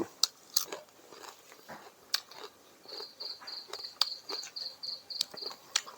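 Crisp bites and crunches of fried dried fish, likely snakeskin gourami, eaten with sticky rice, coming as close, sharp, irregular snaps with a faint high insect-like whine in the background and no talk.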